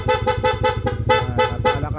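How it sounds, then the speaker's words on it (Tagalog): A loud aftermarket car-style horn fitted to a Yamaha Aerox V2 scooter honks in a steady series of short, evenly spaced blasts, bright and close, with no voices. "Then pag sinwitch, magpapalit sa PIA horn."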